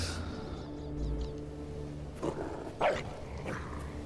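A dog barks and growls nearby indoors, a few rough short vocal bursts over a quiet background.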